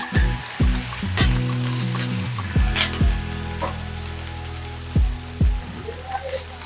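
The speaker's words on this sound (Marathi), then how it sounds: "एक पाण्याचा हप्ता तव्यावर टाकायचा" Water splashed onto a hot iron tava while making crisp jowar dhirde sets off a loud hiss and crackle, punctuated by a string of sharp pops and drips, with no voices.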